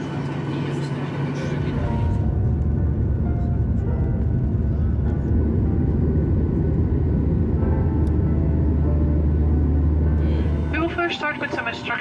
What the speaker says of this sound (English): On the plane now.